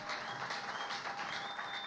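A church congregation applauds in praise, a steady, distant wash of clapping, faint and even throughout.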